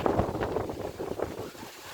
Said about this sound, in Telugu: ఫుల్ ఈదురుగాలులు చిట్లాగాలులు అయితే వస్తున్నాయి